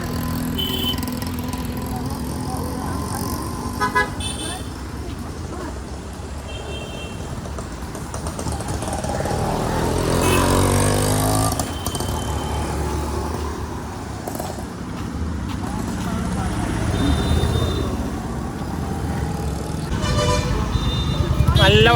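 Busy road traffic roars continuously with engines passing, and scattered car horns toot now and then; a voice talks over it at times.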